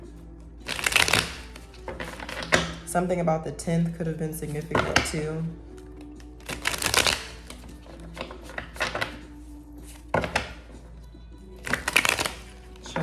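Tarot cards are shuffled by hand in several separate bursts of riffling and sliding, crisp and close. A person speaks briefly in the middle.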